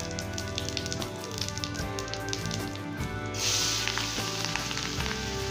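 Cumin seeds sizzle steadily in hot oil, a continuous crackling fry with a brighter hiss swelling about halfway through, heard up close with no talk.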